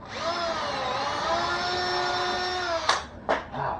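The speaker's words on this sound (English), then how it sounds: "Again, gonna pre-drill these." A power drill whirs steadily for almost three seconds while pre-drilling screw holes in a king size bed frame, its pitch dipping slightly under load, then stops, followed by two short bursts of the motor, close by.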